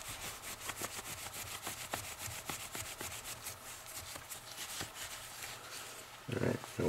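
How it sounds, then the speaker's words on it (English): A rag rubbed repeatedly along a knife to dry off oil, giving a steady run of soft scrubbing strokes close up, with a louder burst near the end. "just rubbing the whole thing down, drying all the oil off."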